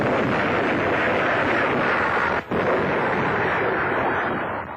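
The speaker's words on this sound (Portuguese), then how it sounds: "Os canhões ingleses atingem o Bismarck, que fica avariado, à deriva e condenado." British naval guns firing on the German battleship Bismarck, heard in a 1942 wartime newsreel as a loud, continuous roar of gunfire and blasts with one brief dip midway.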